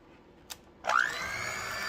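An electric mixer starts up and beats sweet potato pie filling with melted butter, a steady motor whine rising sharply and holding after a brief click, close and fairly loud.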